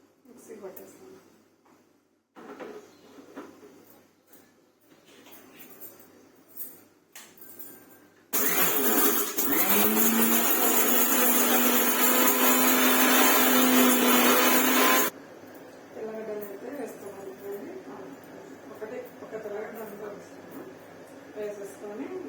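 A kitchen mixer grinder blends cooked chillies with a little salt for chutney, a loud steady whirring roar lasting several seconds before stopping, with household talk before and after.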